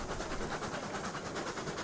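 A train rolls along rails in a video game hauling oil toward a refinery, giving a dense, continuous rumble with a faint rhythmic clatter, steady and close.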